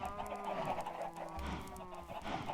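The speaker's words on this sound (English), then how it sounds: "This thing will literally fill with chickens." Quiet, steady clucking from a large flock of chickens crowded into a poultry building in a video game, with overlapping calls running continuously at low volume.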